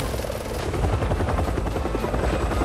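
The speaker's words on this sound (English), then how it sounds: "Here come enemy helicopters!" Helicopter rotors from enemy helicopters in the video game Resident Evil 6 thump steadily and loudly throughout, a dense, continuous whirring drone with no voices.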